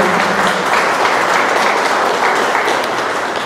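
Audience applause for an engineer speaking at an event on huaico mudflows in Chosica, a dense, loud, sustained crowd of clapping hands that carries on evenly for several seconds with no talk over it.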